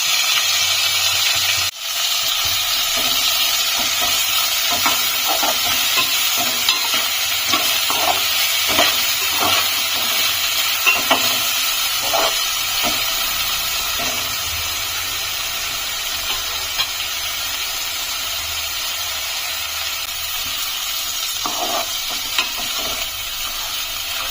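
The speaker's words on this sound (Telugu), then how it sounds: "ఇలా శుభ్రంగా కడుక్కున్న చేపల్ని ముందు కొద్దిగా ఆయిల్ వేసి అందులో ఫ్రై చేసుకోవాలి" Washed dried fish frying in a little oil in a pan, a steady loud sizzle and hiss that runs continuously, with occasional stirring scrapes and clicks over the crackle.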